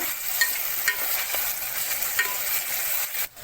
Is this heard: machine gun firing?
no